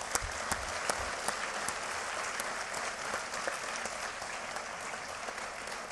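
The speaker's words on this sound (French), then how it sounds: "vous pouvez l'applaudir encore un peu" Sustained audience applause fills a conference hall at a regional congress session on ethics, dense steady clapping with a few sharper individual claps standing out near the start.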